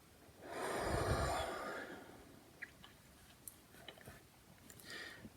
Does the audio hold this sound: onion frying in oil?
no